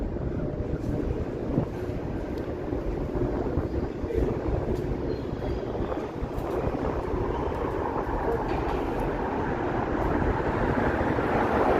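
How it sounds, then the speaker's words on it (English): A train passing overhead on an elevated track, heard from below as a steady, dense rumble that fills the whole stretch and swells slightly toward the end, with no talk. "I hear a train running over my head."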